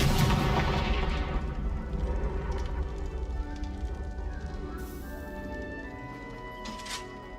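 A Confringo fire spell from Hogwarts Legacy goes off with a deep boom, then a long rumbling, crackling tail that slowly fades, with a couple of faint later bursts.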